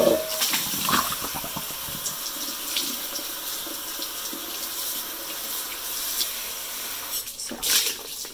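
A cast iron pan being washed outdoors with water, dish soap and powder cleanser, running water splashing steadily and loudly up close, with scrubbing and clattering near the start and end and no talking.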